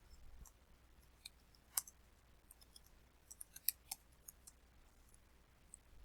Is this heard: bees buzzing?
no